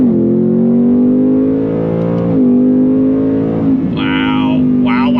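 A 2021 Ford Mustang Mach 1 accelerates hard in second gear, a loud steady engine drone rising slightly with a brief dip, heard from inside the car.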